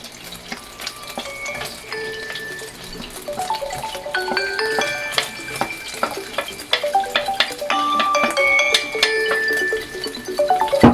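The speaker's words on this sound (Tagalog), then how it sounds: "Diyan din tayo mag-saute." Chopped onion sautés in a pan for a menudo dish, sizzling steadily while a utensil stirs and scrapes with bright clinks; the frying grows a little louder toward the end.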